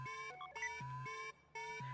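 Intruder alarm in the video game Anonymous;Code, a repeating electronic tone pattern that cycles in short pulses with brief gaps, fairly quiet and steady.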